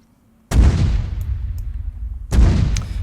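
Mortar rounds fired at a pre-ranged target in the Arma military game hit in two heavy booming blasts, each followed by a long rumbling decay, after a brief quiet start.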